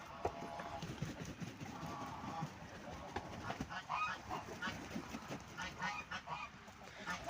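Geese honking repeatedly at moderate distance, a busy overlapping chorus of calls with other farmyard noise in the background.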